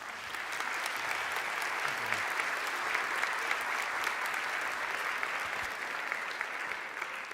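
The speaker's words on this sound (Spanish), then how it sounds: "Saludamos con un fuerte aplauso al señor Guido Girardi." A conference audience at a large future-themed congress applauds a guest, an even, sustained wash of many hands clapping that sounds somewhat distant and holds steady for about seven seconds.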